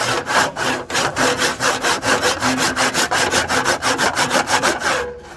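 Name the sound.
hand saw cutting timber joint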